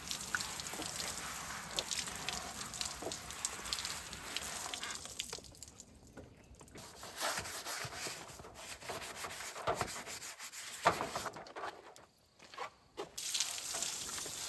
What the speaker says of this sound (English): I'm going to rinse this one off and then scrub the other one